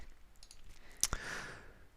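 A single sharp computer mouse click sounds up close and quietly, followed by a soft airy wash, as a filter button is pressed in particle-analysis software.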